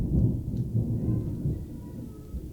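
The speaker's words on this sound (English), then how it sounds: "Dude, the thunder is gnarly." Heavy thunder rolls and rumbles continuously through a Texas rainstorm, loud and low with rain hiss beneath, no talking.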